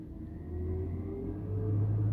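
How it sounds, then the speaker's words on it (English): A garbage truck passes outside, heard as a low engine rumble that swells and strengthens with a rising tone, steady and moderately loud with no voices. "it's my trash truck"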